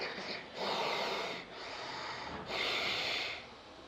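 Yoga breathing through a constricted throat gives a raspy, snore-like rush of air in slow repeated strokes, three or four long breaths close to the listener with brief pauses between them.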